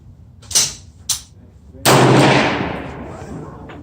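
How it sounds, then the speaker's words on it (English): A 300 Blackout rifle fires one Barnes VOR-TX 110 gr round at a 75-yard target outdoors. Two faint clicks come first, then a single loud, sharp crack with a long fading echo. "Here goes first shot at 75 after the adjustment."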